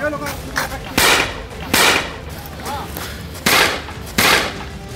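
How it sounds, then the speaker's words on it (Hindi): Several sharp cracks of rubber bullets fired by police at protesters during a TMC demonstration ring out one after another, spaced irregularly, each followed by a brief echoing tail above a background of crowd noise. "पुलिस की टीम को लीड कर रहे अधिकारी ने एक के बाद एक कई रबर बुलेट प्रदर्शनकारियों पर दागी"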